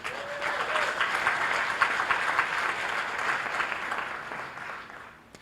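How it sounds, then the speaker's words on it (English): Steady audience applause at the Global Social and Financial Skills Conference 2023, a sustained wash of clapping for about five seconds that fades out at the close. "Another round of applause for Roland."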